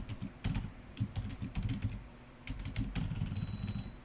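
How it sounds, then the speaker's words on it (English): Fast, steady typing of code on a computer keyboard, dense clicking keystrokes close up with brief pauses, alone without speech. "After that, I'm going to type in MPI,"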